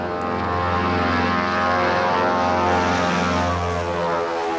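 A propeller airliner drones past in a steady, loud hum of engines, its tone holding constant with a slight swell in the middle and no voices.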